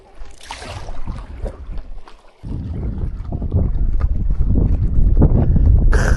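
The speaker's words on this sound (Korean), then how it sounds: "물소리 바람소리 얼마나 좋아요" Paddleboarding on Soyang Lake during an autumn foliage tour: gusts of wind buffet the microphone while water splashes and laps around the board, the rushing noise growing louder and fuller toward the end.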